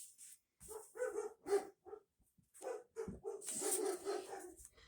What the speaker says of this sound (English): I'm sorry about the dogs that are barking.